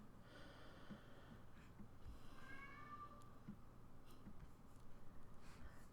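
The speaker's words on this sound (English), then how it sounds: "I don't know if you guys can hear my cat in the background," A cat meows faintly in the background, a couple of drawn-out cries in an otherwise quiet room.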